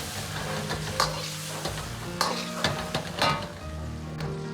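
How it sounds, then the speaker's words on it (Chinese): Tofu with chili peppers stir-fried in a wok sizzles steadily while the spatula scrapes and clanks against the metal in irregular strokes, close and moderately loud. "翻炒均匀。"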